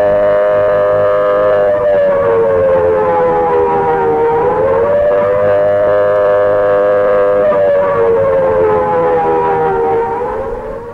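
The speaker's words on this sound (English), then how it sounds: "This siren is sounding the red warning." A loud civil defence air raid siren sounds the red warning, wailing continuously, its pitch rising and falling in slow sweeping cycles, fading slightly at the very end.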